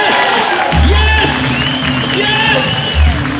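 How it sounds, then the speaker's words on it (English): An audience at a magic show responds after a trick with loud cheering, whoops and shouting mixed with clapping, a noisy, close crowd roar that stays strong throughout. "it is required that you respond with a tremendous round of applause"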